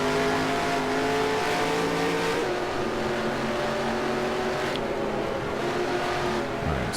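Stock cars race in the NASCAR Racing 2003 video game at Auto Club Speedway, their loud, continuous engine whine holding steady pitches. A pitch drop marks a gear or throttle change as several cars run in a small group.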